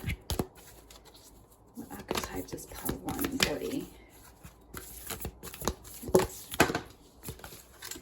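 Tarot and oracle cards are shuffled by hand in short, crisp bursts of riffling and slapping, scattered across the stretch and mixed with a voice speaking close by.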